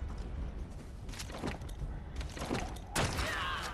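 Gunfire in the game ARK cracks out in a few sharp, separate bursts, fairly loud and close, with players talking over the shots.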